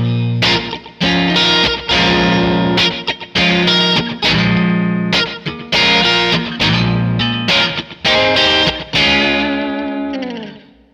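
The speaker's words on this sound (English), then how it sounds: "I would definitely choose crunch model." A crunchy, distorted electric guitar through a Yamaha THR10 amp on its crunch model plays loud chords in short bursts with sharp stops, ending on a ringing chord that slowly fades.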